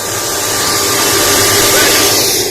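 A hay chopper driven by a 5.5 kW three-phase electric motor runs at a loud, steady whir, with broad hissing, rushing noise filling the whole stretch, close by.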